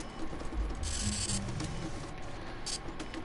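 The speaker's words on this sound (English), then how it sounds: "Activate printer." A terminal printer in the video game Fallout 76 runs with a steady mechanical ratcheting clatter, moderately loud and continuous, with a brighter rattling burst early on over low game ambience.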